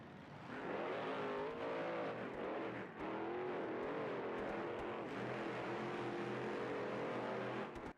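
Race cars running on track during the MTM Grand Finals racing, a steady loud engine drone with rising and falling revving tones as several cars circle, continuous throughout with no talk.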